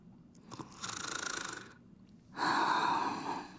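A character snoring in the video game Honkai: Star Rail, two drawn-out breathy snores, the first softer and the second louder and rougher, close and alone with no talk.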